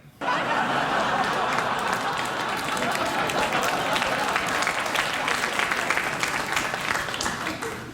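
A late-night talk show studio audience breaks into sustained applause, a broad, loud, continuous roar of clapping that starts abruptly and stays strong for several seconds, with scattered laughter mixed in.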